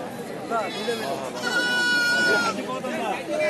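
Young goat kids bleat in short wavering cries at a goat market in Mahadevpur, Naogaon, over a busy, noisy background, with people talking nearby throughout.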